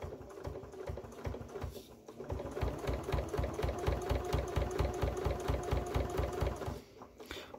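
A sewing machine stitches a zipped fabric pouch in a rapid, even mechanical patter, starting, pausing briefly, then running steadily before stopping near the end; no speech.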